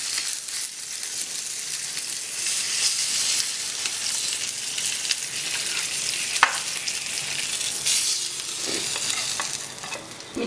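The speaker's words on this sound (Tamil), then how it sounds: "மிச்சம் இருக்கிறத நம்ம பொரிச்சு எடுத்துடலாம்." Tandoori chicken pieces fry in hot oil with a steady, close sizzle throughout, broken by a few sharp clicks and stirring scrapes in the pan.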